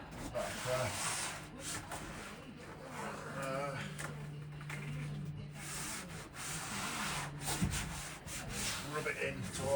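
Insulation is rubbed by hand into contoured surfaces, a steady close scraping and brushing texture with a faint hum underneath.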